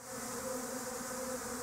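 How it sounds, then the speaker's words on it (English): A few honey bees from a swarm buzzing around the spot where their box stood before being moved to hives, a steady droning hum of several insects close by, with no voices. "There are still a few bees flying around in the corner where the box were situated before I moved them to the hives."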